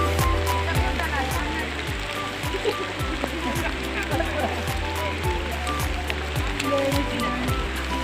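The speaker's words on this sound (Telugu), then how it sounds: "ఫుల్ వర్షం వస్తుంది." Heavy rain pours at Charminar in Hyderabad, a dense continuous wash of falling water with drops spattering on surfaces, steady and close throughout, with rhythmic low thumps underneath.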